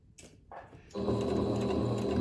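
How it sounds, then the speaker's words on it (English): A sewing machine stitches a pocket onto shirred-waist pants, starting quietly and then running steadily and loudly in a continuous whir, close up with no talking. "So I'm just gonna sew down a 1/2 inch below where our pocket starts."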